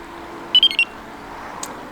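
Nash R3 carp fishing bite alarm, shown after being dunked in water, sounds a short burst of about four quick electronic beeps, loud and close, followed by quiet room tone.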